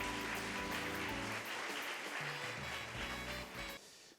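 An audience claps to welcome guest judges at a regional high school mock trial contest in Korea, steady full applause that thins and fades toward the end, with no talking.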